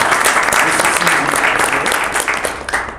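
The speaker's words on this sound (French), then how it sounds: "qu'on applaudit bien fort." Audience applauding the CEO of Global Investment Trading SA at a Simbcoin event in Burkina Faso; loud, dense clapping fills the whole stretch and eases slightly toward the end.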